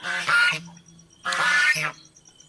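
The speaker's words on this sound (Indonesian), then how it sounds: "ketika angsa keling itu yang identik mencolok yaitu suaranya. Suaranya itu sangat nyaring sekali, jadi agak bising." A Keling goose gives two loud, harsh honking calls, each a brassy burst of about a third of a second with a quiet gap between, close to the listener.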